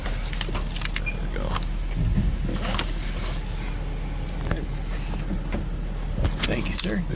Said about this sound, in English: Get the keys up here ready for him.